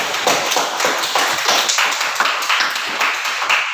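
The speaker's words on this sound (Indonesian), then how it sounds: "Kasih tepuk tangan untuk kelompok 3." A sixth-grade class claps for a student group in an Islamic studies lesson, a close, moderately loud run of hand claps in a fairly regular rhythm, with a few slightly uneven beats.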